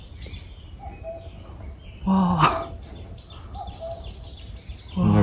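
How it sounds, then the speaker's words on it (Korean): A cuckoo calls in the distance along a coastal walking trail on Geoje Island, faint repeated notes amid other bird chirps, while a person briefly exclaims nearby. "뻐꾸기 소리."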